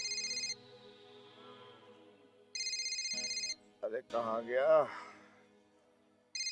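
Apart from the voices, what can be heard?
telephone ringing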